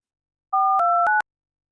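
Telephone keypad tones sound as someone dials a lawyer: a short sequence of crisp, loud dual-pitch beeps, about four in quick succession, alone against silence.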